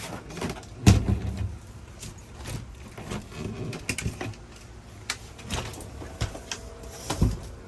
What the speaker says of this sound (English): And the door slides along this way